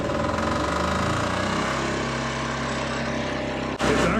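A diesel engine driving an off-grid air compressor for a tire machine chugs steadily and loudly nearby, with a rhythmic knocking drone that briefly dips near the end.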